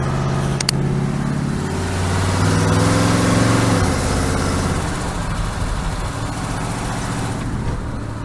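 A 1936 Chevy running on the road, a steady engine drone with a low hum that rises in the middle and then settles, while small rattling noises sit underneath.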